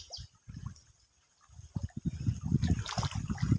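Tilapia being fed in a farm pond splash and slap at the water surface close by, in soft irregular bursts that grow busier and more continuous toward the end.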